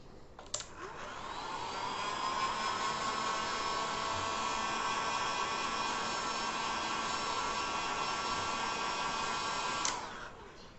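A hair dryer blows steadily on a freshly painted surface, switching on abruptly and running loud and continuous for about nine seconds with a high whining tone before cutting off.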